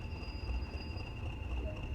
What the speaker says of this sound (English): Wait here for the train to arrive into the yard.